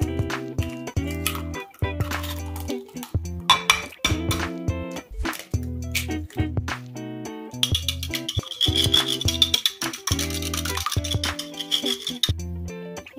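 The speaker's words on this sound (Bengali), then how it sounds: "এটা আমি ঢেলে দিচ্ছি। এটাকে বিট করে নিব।" Banana bread batter being beaten in a bowl for a low-carb diet loaf, a busy run of close, repeated clinks and scrapes of utensil against the bowl with no talking.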